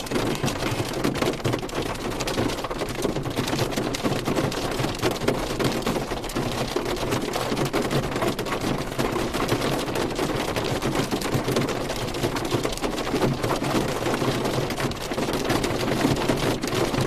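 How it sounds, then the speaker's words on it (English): Very small hail, smaller than pea size, pattering steadily and densely during a New Mexico storm, a continuous loud hiss of impacts with no talking. "This is all really, really small hail."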